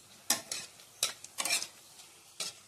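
Whole spices (chili, bay leaf, cardamom, cloves, cinnamon) frying in a pan, heard as a few short scraping stirs and soft sizzles spaced out over a quiet background.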